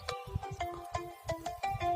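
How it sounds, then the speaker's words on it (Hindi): A mobile phone ringtone for an incoming call, a bright repeating electronic melody of short pulsed notes, near and clear with no talking. "केकर फोन आयो"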